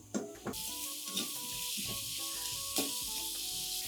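Chopped onion sautés with salt in a pan for millet khichdi, a loud, steady sizzling hiss broken by a few stirring scrapes and knocks of the spoon against the pan.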